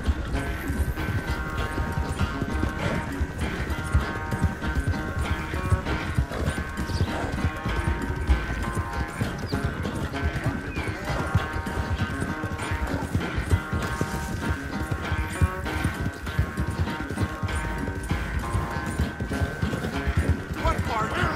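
Horse hooves pound in a fast, continuous galloping rhythm during a race in Red Dead Redemption 2, loud and close, with game music and voices layered over them throughout.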